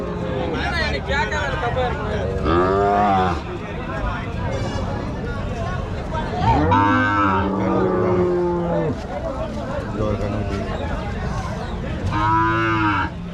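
Cows and calves moo repeatedly at close range, several long, drawn-out calls spaced across the span, with people talking among them in a busy cattle setting.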